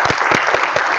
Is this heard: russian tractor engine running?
no